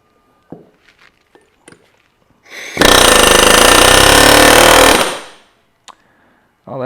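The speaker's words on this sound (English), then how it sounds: "I'm gonna try to air hammer the pin out of here, but the air hammer is really loud" A pneumatic air hammer pounds at a pin on a 1970 Fiat 500 during brake and suspension work, firing as a loud, rapid, continuous rattling burst of about two seconds. Single metallic taps and handling sounds come before it and after it.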